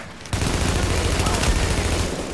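Rapid automatic gunfire in the video game The Division, a loud sustained burst of shots fired in close succession.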